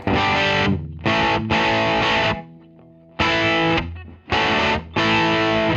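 Electric guitar played through a DIY Fulltone OCD clone overdrive pedal with gain at zero as a boost and a little added treble, loud chords struck in bursts with short gaps and one sustained ringing pause.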